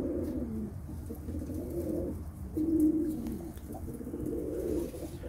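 Silver-headed game pigeons coo in low, throaty, repeated phrases close by, several overlapping rolls rising and falling over a quiet background.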